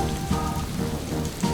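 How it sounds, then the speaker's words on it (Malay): Steady rain pours down outdoors in a continuous dense hiss, loud and close, with heavier drops pattering through it and no voices. "Tapi ia masih hujan, harap ia berhenti."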